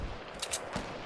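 A single sniper rifle shot fired in the video game Fortnite, a sharp mid-distance crack cutting through a busy, faint game soundscape.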